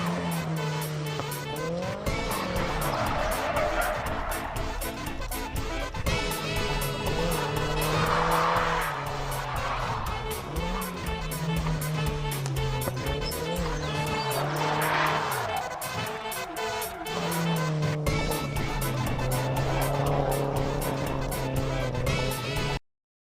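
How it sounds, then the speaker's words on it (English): SR20-powered Nissan Z32 drifting, with a loud engine droning and revving and long, repeated tire squeals and skids, continuous and close. "To see if he can drift too, they put him in an SR20 powered Z32."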